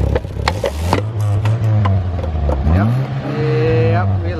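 A Toyota Corolla fitted with a cheap ricer exhaust revs up close by, rising to a raspy, buzzy whine that climbs toward the end, with people talking and shouting over the engine.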